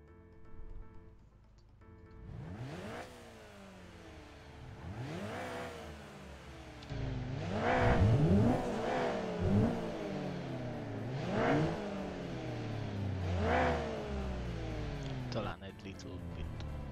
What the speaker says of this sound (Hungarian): Hogy tudom felvenni a motorhangot?